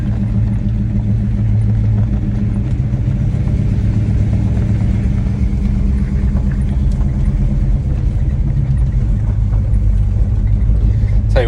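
Big block Chevrolet Monte Carlo engine heard from inside while driving, a loud, steady low rumble with slight swells, and a voice faintly under it.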